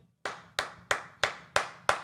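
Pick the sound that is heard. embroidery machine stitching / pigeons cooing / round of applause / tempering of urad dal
round of applause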